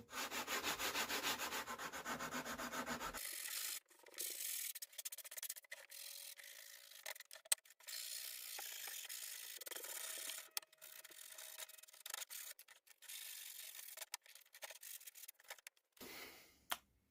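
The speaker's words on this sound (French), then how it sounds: "on va finir le ponçage pour s'approcher du trait" Sandpaper rubs against plywood in quick back-and-forth strokes, a dry scratchy rasp that starts and stops in irregular bursts, up close, while shaping a wooden Christmas sleigh decoration.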